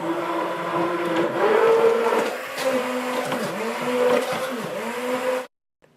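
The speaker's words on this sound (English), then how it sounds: "I'm going to mix everything in so it's super smooth with this immersion blender." Whirring motor of an immersion blender churning a thick coffee mixture, pitch wavering as it works, close and loud, then cutting off abruptly.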